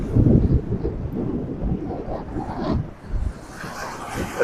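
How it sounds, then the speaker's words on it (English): Strong, steady wind buffets the microphone on the downtown Paphos seafront promenade beside the Mediterranean on a stormy autumn afternoon, a continuous loud rumbling roar with gusty swells and no break. "The downtown Paphos Promenade on a rather, well, windy autumn afternoon."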